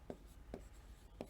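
Three short, evenly spaced strokes of handwriting during a computer input devices lesson, faint and close, with quiet room tone between them.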